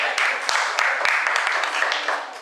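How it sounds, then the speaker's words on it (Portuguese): Steady, loud applause from a workshop audience after a music demonstration, with many hands clapping densely and evenly for the full length of the clip, close to the listener. "uma salva de palmas"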